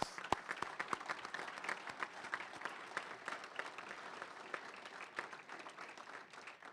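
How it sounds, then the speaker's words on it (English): Applause from the audience at a college men's basketball introductory press conference, many hands clapping steadily for several seconds at moderate distance, with no talking over it. "let's give them a round of applause"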